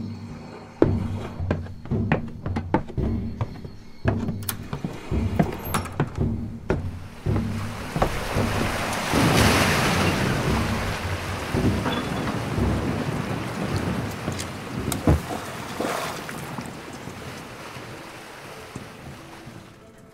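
A storm at sea lashes a ship carrying Jonah, with heavy rain, rolling thunder and surging waves building into a loud, sustained roar after scattered thumps and creaks, no voices present.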